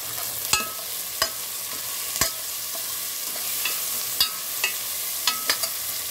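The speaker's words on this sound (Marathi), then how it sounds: "टोमॅटो टाकून देऊया। 2 मिनिटे आपण परतून घेऊया असं।" Tomatoes sautéed and stirred in a pan with onions that are already browned, giving a steady low sizzle broken by sharp, scattered clicks of a spatula against the pan.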